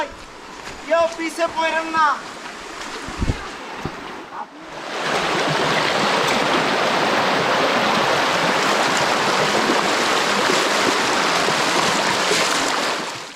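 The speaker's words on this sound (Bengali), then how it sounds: "এই যে সামনে ঝিরি দেখতে পাচ্ছেন, ঝিরির পানির স্রোত দেখলে বোঝা যায় যে পানির কি অবস্থা" Stream water rushing steadily near Muppochora Waterfall in Belaichhari, Rangamati, a loud, dense broadband flow filling most of the clip after a few seconds of speech.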